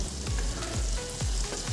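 Food fries in a pan with a loud, close, continuous sizzle and a few regular stirring scrapes, with no talking.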